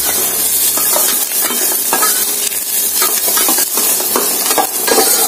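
Onions frying and being stirred in a pan while preparing tandoori Maggi noodles: a steady, loud sizzle runs throughout, with repeated scraping stirs close by and no talking.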